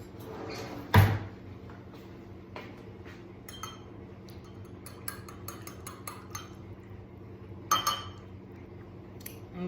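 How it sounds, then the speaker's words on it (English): Utensil scraping and clinking against a pot of bone broth as it is stirred, with a few sharp clinks and softer intermittent knocks over a steady low background hum. "let me stir this up"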